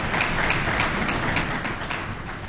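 Audience applause at a conference, steady dense clapping that holds at an even level throughout and fades only slightly toward the end, with no voices over it.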